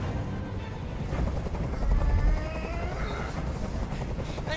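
A helicopter hovers close overhead in the hostage scene of the video game Detroit: Become Human: a loud, steady rotor roar and rumble that swells briefly, then continues as a dense wash.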